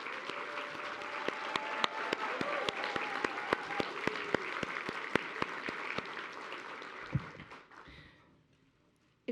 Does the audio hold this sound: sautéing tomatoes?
no